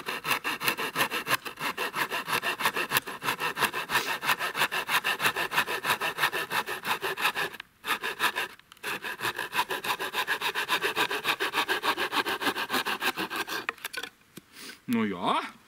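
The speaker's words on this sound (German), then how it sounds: "Es ist keine Zugsäge, sondern es ist eine Drücksäge." A machete's saw-back blade rasps steadily through wood in fast, continuous push strokes for most of the clip, pausing briefly twice before the cutting stops near the end.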